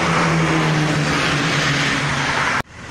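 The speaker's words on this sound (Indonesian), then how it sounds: "Nih ya, tuh mobil-mobilnya." Cars pass through a busy road intersection near a toll road, a loud continuous broadband traffic roar with engine hum that cuts off abruptly near the end and resumes fainter.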